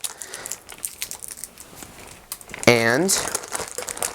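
Tape is pulled and crinkled off a model rocket body, a rustling, crackling sound near the microphone, broken by a short spoken word from a person partway through.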